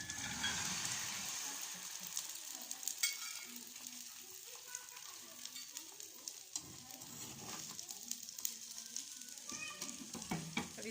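Spanish omelette, a cheesy tortilla española, frying in a pan over a low flame after being flipped, giving a steady close sizzle and crackle of oil with scattered pops throughout, no talking.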